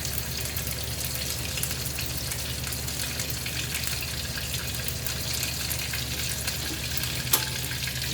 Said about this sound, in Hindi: थोड़े से बटर में मैंने इसको बघार दिया